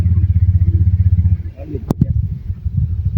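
A Honda motorcycle running after being repaired, with a steady pulsing idle close by that falls away, and people talking over it.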